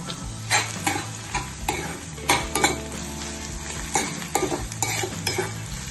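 Chopped green chillies and onions fry in a pan for a dhaba-style whole masoor dal, a steady close sizzle broken by repeated scrapes and clinks of a stirring spoon, with no talking.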